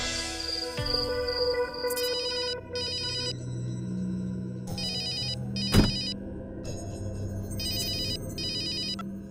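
A phone rings in a TV crime drama, repeated electronic ringtone bursts in a steady pattern over tense background music, with a sharp hit partway through.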